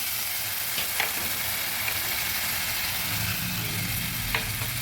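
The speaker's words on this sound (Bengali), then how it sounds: "ভালোভাবে মশলাগুলো ভেজে নেব" Spices fry in an oiled pan for a fish curry with winter vegetables, producing a continuous close sizzle with a few faint clicks of stirring.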